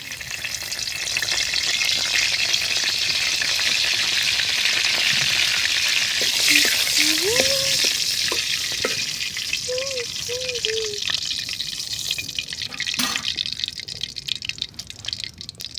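Bay leaves sizzle and fry in hot oil in a pan, with a steady close hiss throughout and a few faint clinks and drips; a voice murmurs briefly in the background.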